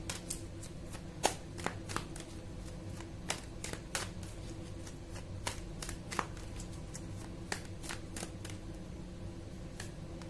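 A deck of oracle cards being shuffled by hand, with soft steady riffling and sharp, irregular card snaps heard close up and alone in a quiet room.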